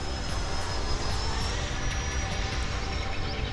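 FMS Su-27 Flanker twin 70mm electric ducted-fan RC jet in flight, a steady whooshing whine with a faint rising tone, heard from a moderate distance outdoors.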